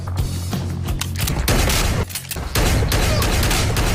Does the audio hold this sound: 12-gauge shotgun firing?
yes